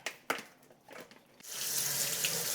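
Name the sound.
rinsing beans under running water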